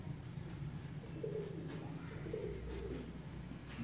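Pigeons kept in a home loft coo softly in repeated low murmuring phrases, faint and close with light background noise and no talk.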